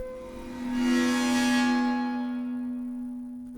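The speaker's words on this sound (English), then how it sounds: "The sound of someone pushing back on their metal chair in an aircraft hangar" The Maelstrom sample is a metallic scrape-like swell, like a metal chair pushed back in a hangar, with a sustained low ringing tone beneath. A hissy wash rises, peaks, then fades slowly into a long cavernous tail, faint and alone.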